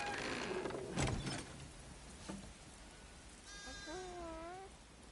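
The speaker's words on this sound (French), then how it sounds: "Ça fait beaucoup trop de moutons" Sheep bleat in The Last of Us Part II, a clear wavering call near the end following some creaking mechanical noises, set against a steady rain-like hiss.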